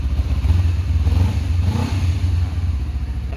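A Honda CBR250RR SP Quickshifter motorcycle with a stock, unmodified exhaust revs loudly and close by, its engine droning steadily with a few throttle blips and no talk.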